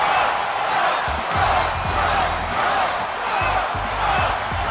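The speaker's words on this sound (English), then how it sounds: "Got the crowd going crazy, chanting Bro." A big arena crowd in the WWE 2K22 wrestling game roars and chants as Matt Riddle makes his entrance, a loud continuous wash of cheering with rhythmic bursts of chanting throughout.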